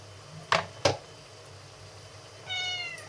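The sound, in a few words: cat meowing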